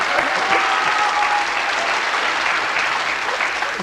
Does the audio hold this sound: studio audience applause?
yes